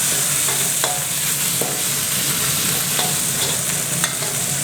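Fresh chillies stir-fried in oil for a spicy field-rat stir-fry crackle with a loud, constant sizzle, punctuated by sharp clicks and scrapes of a utensil tossing them in the pan.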